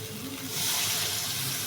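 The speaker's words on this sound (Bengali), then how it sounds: "এবার এখানে অ্যাড করে দেবো ঝোলের জন্য পানি" Water is poured into a hot pan of fish curry, setting off a loud rushing hiss and sizzle that swells and holds until the end.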